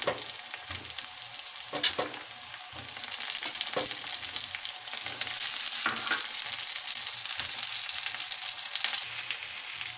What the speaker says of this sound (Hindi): अब इसे 4 से 5 मिनट तक भूनना है।